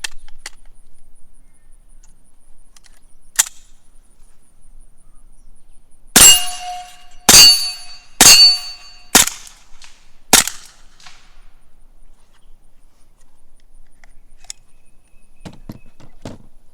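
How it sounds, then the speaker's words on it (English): Five suppressed gunshots fire Mills ammunition rounds at close range. Each is a sharp crack, spaced roughly a second apart, in an otherwise quiet outdoor setting with a few faint clicks before and after. "we're going to go ahead and send the first 5 rounds out of this"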